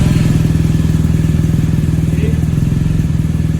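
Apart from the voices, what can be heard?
motorcycle engine starting and running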